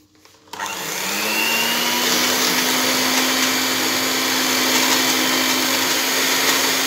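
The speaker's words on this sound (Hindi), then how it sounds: "इसको हमें तब तक फेंटना है कि ऊपर हल्का हल्का झाग आ जाए" An electric whisk or frother whipping milk in a cup until frothy for a Scotch Brite cake, starting up with a click and then running as a steady loud motor whine, close and continuous.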